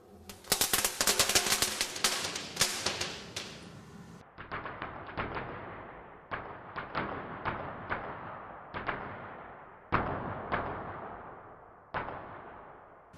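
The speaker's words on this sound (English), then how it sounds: "so this is a crackle star" A crackle star firework burning with a dense burst of rapid, loud crackling pops, then sparser bursts of sharp crackles spaced a second or two apart.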